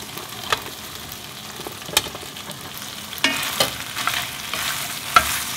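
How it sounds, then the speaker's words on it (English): Potato, carrot and onion being stirred in a pot as they fry, with a quiet steady sizzle broken by several sharp scrapes and clacks of the utensil against the pot, close by and alone without talk. "I'm going to stir this for a couple of minutes until potato looks little half translucent."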